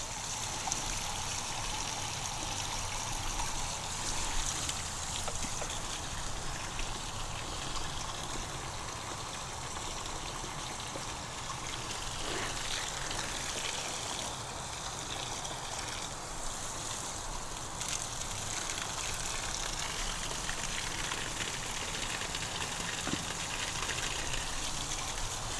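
Water runs steadily through a hanging coconut fiber planter full of soil, a continuous trickling wash with no voices over it.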